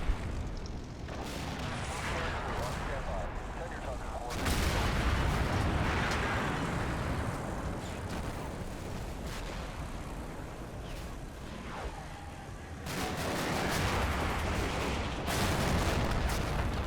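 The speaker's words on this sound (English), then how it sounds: "These guys are getting mortared." Mortar rounds and heavy gunfire rumble through a military battle in the Thunder Run video game, with dense continuous booms and crackling bursts that swell louder at several points, without any talking.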